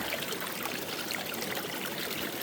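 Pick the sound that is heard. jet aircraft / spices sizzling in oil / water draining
water draining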